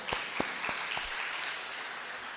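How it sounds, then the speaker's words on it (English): Audience applause at the close of a keynote session at an academic conference, broad and sustained with a few sharper claps standing out near the start, moderately loud from a mid-distance crowd. "We give a round of applause for Dr. Saiful Islam again."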